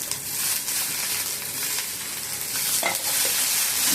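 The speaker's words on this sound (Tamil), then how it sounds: "இப்போ தக்காளி ரெண்டு தக்காளி போட்டுட்டு" Two tomatoes sautéing in a pan for a moong dal and drumstick kootu, a loud, continuous close-up sizzle and frying hiss with faint stirring, no voices.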